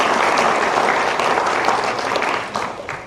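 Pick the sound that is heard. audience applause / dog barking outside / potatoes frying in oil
audience applause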